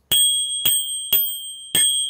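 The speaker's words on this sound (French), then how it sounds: "C'est une sonnette de vélo" A finger-mounted ring-style bicycle bell, turned by its rotating band, rings four sharp, bright strikes at roughly even intervals, each leaving a short metallic shimmer before the next.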